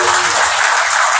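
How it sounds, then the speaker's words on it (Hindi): Audience at a motivational talk clapping, a brief, loud, close burst of dense applause lasting about a second. "ताली बजाएं"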